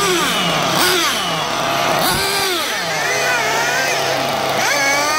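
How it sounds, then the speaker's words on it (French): A racing motorcycle engine warms up in the paddock of a Montpellier Grand Prix, revving loudly with rising and falling blips of the throttle over a steady idle, close and continuous. "il y a Papy qui fait chauffer le moteur"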